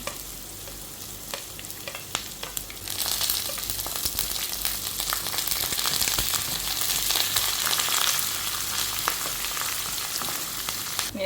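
Onion, green chilli and curry leaves frying in hot oil with nuts, a steady sizzle that grows louder and denser after the first few seconds, with occasional stirring scrapes and crackles throughout, no voices.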